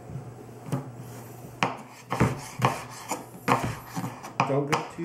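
A kitchen knife chops through a potato on a cutting board in a steady series of sharp, close thuds, about a dozen strokes with no voice over them.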